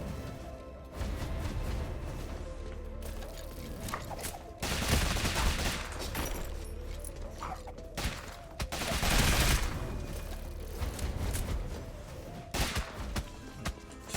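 Gunfire from the gunslinger class in Rogue Legacy 2, with repeated rapid bursts of game shots and impacts layered over steady background music, the densest flurries coming in waves across the whole stretch.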